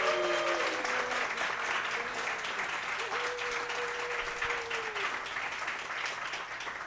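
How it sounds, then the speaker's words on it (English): A live podcast audience in Washington, D.C. keeps up sustained, fairly distant applause, with faint voices or whoops drifting over the clapping throughout. "A round of applause for yourselves, Washington,"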